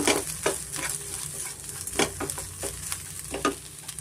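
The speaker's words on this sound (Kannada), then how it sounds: "ನುಗ್ಗೆ ಸೊಪ್ಪು ಮತ್ತು ಕಡಲೆಬೇಳೆ, ಉದ್ದಿನಬೇಳೆ, ಬೆಳ್ಳುಳ್ಳಿ ಮಿಶ್ರಣ ಇದೆಲ್ಲ ನಾನು ಸ್ವಲ್ಪ ಫ್ರೈ ಮಾಡ್ಕೊಳ್ತೀನಿ" Drumstick leaves frying with chana dal, urad dal and garlic, a steady close sizzle broken by repeated stirring scrapes in an irregular rhythm, no voices.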